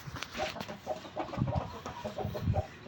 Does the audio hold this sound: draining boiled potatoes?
no